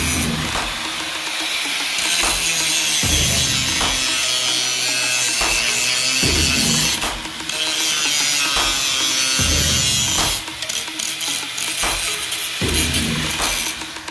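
Steady rhythmic sawing through wood, strokes repeating about every second and a half, loud and close with a rasping, gritty texture throughout.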